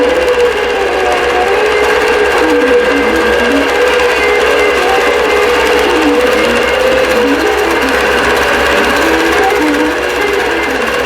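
An embroidery machine stitches a design at steady speed, its loud, dense, even rattle of needle strokes running without a break, close and alone.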